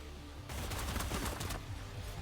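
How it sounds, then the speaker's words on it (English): A sustained burst of rapid gunfire in Cyber Knights: Flashpoint, many shots packed tightly together for a couple of seconds after a short quiet lead-in. "I'm feeling confident about just shooting as many bullets as possible."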